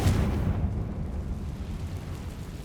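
A Confringo spell detonates in Hogwarts Legacy, a loud, close, booming blast that strikes at once and then rumbles and crackles away over a couple of seconds.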